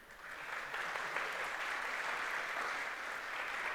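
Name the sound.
audience applause at a doctoral college event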